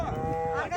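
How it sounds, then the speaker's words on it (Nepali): Jersey cows on a farm give a short, close, drawn-out moo with a tonal low groan that fills the whole brief moment. "यो गाईको सब हेरौँ जर्सी गाईहरू छन् सबै"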